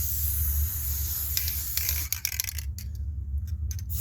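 A can of spray paint hisses steadily up close as it coats a painted rock, then gives way to a few light clicks and rattles near the end.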